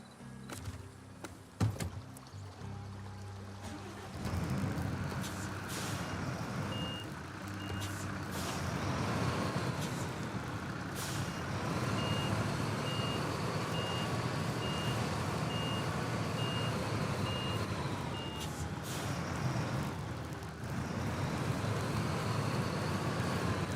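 A Kenworth truck backing up, its reversing alarm beeping in a steady even rhythm over a loud diesel rumble, with an air-brake hiss and knocks early on.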